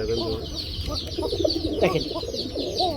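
Pigeons coo and burble in a busy pen of birds for sale, several soft rolling calls overlapping close by with low clucks and rustling.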